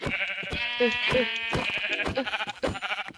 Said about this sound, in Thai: แล้วก็จะฆ่าแกะไปก่อนแล้วกัน